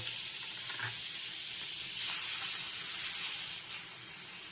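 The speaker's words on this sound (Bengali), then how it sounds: "এখন দিয়ে দিচ্ছি মাছগুলো ভেজে নিতে হবে" Prawns fry in a pan with a steady, close hiss and sizzle of hot oil that swells briefly midway and then settles back.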